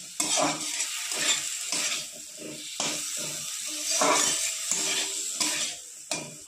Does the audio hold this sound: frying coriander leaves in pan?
yes